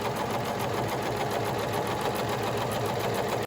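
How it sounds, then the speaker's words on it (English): Sewing machine stitching a dress slip and skirt, a continuous close rapid mechanical chatter that runs evenly throughout and stops abruptly at the end. "So I get right to work sewing up my slip and the skirt of my dress"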